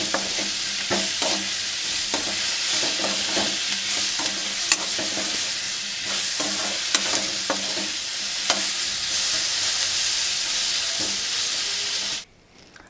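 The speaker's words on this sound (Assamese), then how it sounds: "এয়া অলপমান এনেকৈ লৰাই দিছোঁ।" Garlic cloves and ginger stirred in a hot pan for an egg curry, a steady close sizzle and hiss broken by repeated scraping knocks of the spoon, ending abruptly in silence.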